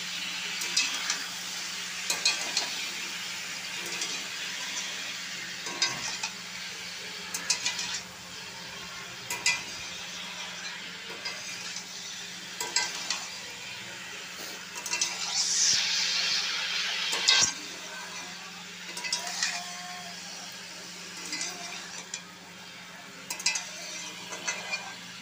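Spinach fries in a pan with a soft, continuous sizzle. Frequent stirring, scraping and light clinks of utensil against pan run through it at a moderate, close level.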